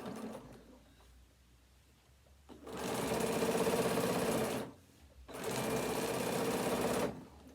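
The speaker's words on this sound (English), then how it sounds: "and carry on stitching." Sewing machine stitching binding onto a card wallet, running in two steady bursts of about two seconds each with a short pause between, close and alone.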